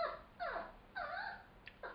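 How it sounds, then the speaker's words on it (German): A small dog whimpers indoors in a few high, wavering whines, each rising and falling, with short pauses between them, fairly close but soft, no voices. "Mein kleiner Hund heult."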